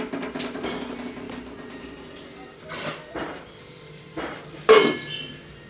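A cooking pot is covered with its lid while papaya is boiled for chutney in a home kitchen, giving a few short metallic clanks and knocks amid quieter kitchen handling, one sharper clatter near the end.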